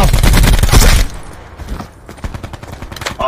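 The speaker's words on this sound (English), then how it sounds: "I'm still fucking shooting." Rapid bursts of video game gunfire, loud and dense for the first second as an automatic weapon fires, then sporadic fainter shots and scraping continue to the end.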